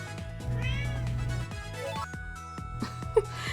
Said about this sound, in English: starting to get meowy in the background there